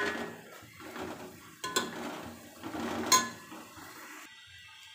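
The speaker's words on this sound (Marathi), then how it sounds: "आणि आता ह्याला ह्या सगळ्या मसाल्यांना आपल्याला छान परतून घ्यायचं आहे अगदी 5 ते 7 मिनटं" Spice masala gravy being sautéed in a pan, heard as soft scraping and stirring with a couple of sharp clinks of a spoon against the pan, fairly quiet, with no talk.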